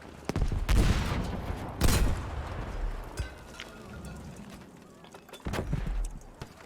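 Gunfire in the Battlefield V video game, several loud sharp bursts spaced apart with rumbling decay between them, shots and blasts standing out against a busy battlefield background.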